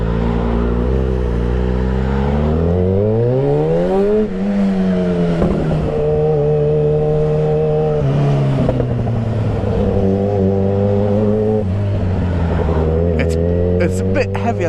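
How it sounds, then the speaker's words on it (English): A Yamaha XJ6 motorcycle is ridden on the road, its engine droning steadily and loudly and rising and falling in pitch as the rider accelerates and shifts, with wind rush throughout. "this is my first time actually riding an XJ6"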